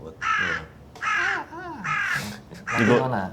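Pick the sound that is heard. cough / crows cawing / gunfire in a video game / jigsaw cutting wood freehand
crows cawing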